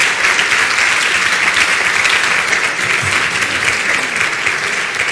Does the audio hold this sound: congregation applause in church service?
yes